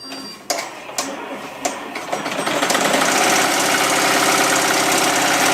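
A Bravo X embroidery machine stitching a design on leather starts with a few sharp clacks, then settles into a loud, rapid, steady mechanical chatter of needle strokes.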